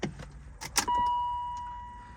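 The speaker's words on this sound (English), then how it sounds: "I'm gonna turn the car on." A BMW Z3 3.0 roadster, about 21 years old, starts up close by: a few clicks and key jangles, then the engine catches and settles into a steady running hum with a thin whine. No one talks.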